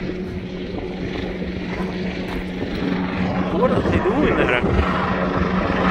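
A helicopter flies near an advancing lava flow and burning moss in the lowland beside Litlihrutur, Iceland; a steady rotor-and-engine drone runs throughout and swells slightly louder midway, with people talking over it.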